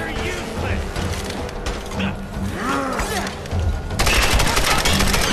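A big gun fires in the Tomb Raider video game, with rapid bursts of loud gunfire and mechanical clatter, close and dense, and a heavier barrage near the end, while someone speaks over it.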